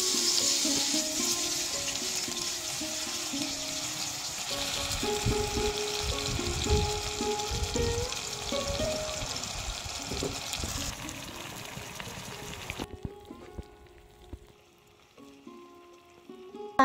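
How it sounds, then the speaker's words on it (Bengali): Carp fish frying in oil in a pan in a Bangladeshi village kitchen, a steady close sizzle with stirring clatter that drops to a quieter, fainter crackle near the end. "একে একে সবগুলো মাছ আমি খুব সুন্দর করে ভেজে নেব।"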